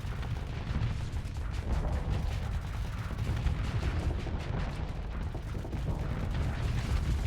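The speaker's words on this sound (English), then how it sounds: "It's able to fire all of its weapons." Weapons fire from a warship in the space game Starsector, a dense continuous barrage of booming shots and mechanical clatter rolling on without pause, loud throughout.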